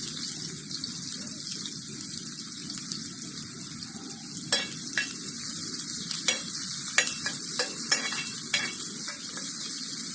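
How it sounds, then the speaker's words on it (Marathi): Cumin, garlic and onion sizzle and crackle steadily while frying in a pan for a Marathi flower-vegetable dish, with sharp stirring scrapes and clinks scattered through the second half. "जिरं तडतडलं की आपण लसूण टाकून घेऊ. जिरं टाकायचं, लसूण टाकायचा, नंतर कांदा"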